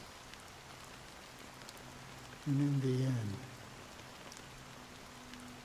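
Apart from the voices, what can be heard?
rain falling in Honkai: Star Rail video game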